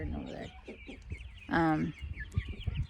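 Lavender Orpington chickens clucking in a backyard garden, a close, loud burst of harmonic squawking clucks in the middle amid softer murmuring clucks, with a person talking briefly around them.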